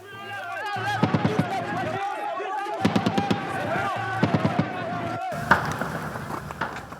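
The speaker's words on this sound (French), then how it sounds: "Des rafales d'armes automatiques continuent de retentir à Bakongo." Bursts of automatic weapons fire crack in rapid clusters in the Bakongo district of the Central African Republic capital during fighting, with heavier thuds among them, all under continuous talk.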